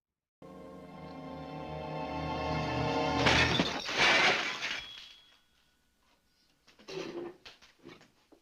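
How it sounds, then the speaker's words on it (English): A loud crash of breaking crockery bursts out after a swelling musical passage, followed by a few scattered clinks and smaller shattering bits. "he becomes enraged and smashes plates"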